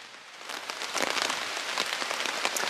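Steady rain patters on surfaces around a forest campsite, a dense continuous hiss with scattered louder drops, close and alone with no voices.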